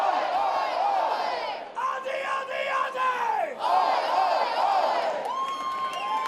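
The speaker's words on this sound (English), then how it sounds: "Right now we got roll call going, like the Yankee Stadium roll call." A college baseball crowd at a Troy vs Little Rock game chants a roll call for the fielders, loud massed voices shouting in rhythmic bursts that rise and fall with brief pauses between calls.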